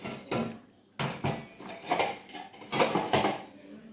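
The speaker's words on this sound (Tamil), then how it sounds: "டிஃபன் பாக்ஸ் எல்லாம் இதில் வச்சுருக்கேன்" Tiffin boxes knock and clatter as they are stacked into a home kitchen cupboard, a run of close, uneven metallic thumps and clinks.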